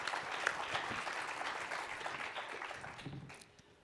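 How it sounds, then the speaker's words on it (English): An audience claps steadily at a conference on great ape conservation, a dense, fairly distant patter that holds for a few seconds and then tails off. "Round of applause, please."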